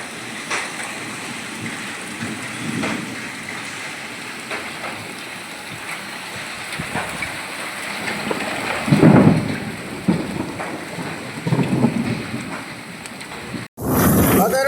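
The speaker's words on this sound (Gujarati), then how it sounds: "પાણી મિત્રો શેરીમાં હાલતા થઈ ગયા ને માથામાં કરા પડે જોરદાર" A heavy downpour with hail hammers a village street in Saurashtra, making a continuous dense patter that swells into louder gusty bursts of pelting before ending abruptly.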